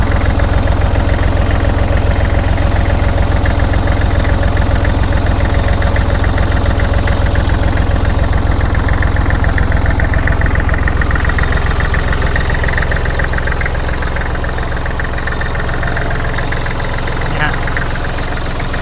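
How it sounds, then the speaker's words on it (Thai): A Kubota L3408DT tractor's diesel engine idles with a steady, rough knocking rumble, close and loud, while someone talks over it. "ตัวนี้เครื่องนิ่มๆนะครับ ดู ดูเสียงนะครับ ฟังเสียง"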